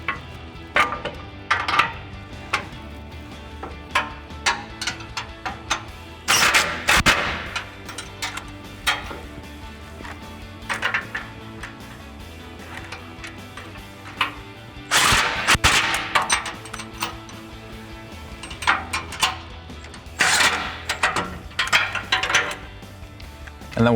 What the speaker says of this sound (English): So now we can tighten down our 3 bolts that we installed using a 17mm socket